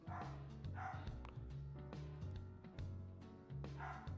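A dog barks in repeated short bursts, somewhat distant and muffled, over a steady low mechanical hum.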